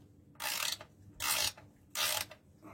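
Wrench working loose an oil filter on a Peugeot 406, three separate broadband ratcheting, scraping bursts, each lasting about half a second and evenly spaced, close and fairly loud against a quiet background.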